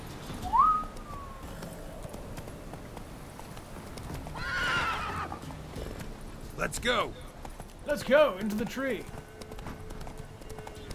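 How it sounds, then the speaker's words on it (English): A horse in The Witcher 3 video game neighs and trots with clip-clopping hooves, heard under steady conversation from players talking throughout. "Horse."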